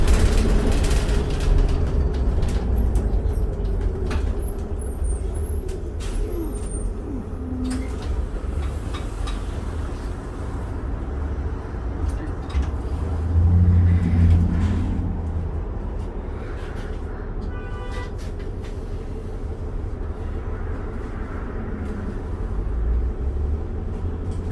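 Onboard ride in a 2008 New Flyer D40LFR city bus in Calgary on the Killarney/17 Ave SW route, a steady low engine drone and road rumble throughout with rattles and brief door and brake noises, no talk.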